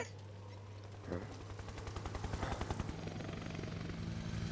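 A helicopter in the video game Final Fantasy VII Remake thuds with rapid rotor chops that build in loudness, mixed with bursts of gunfire against a steady game backdrop.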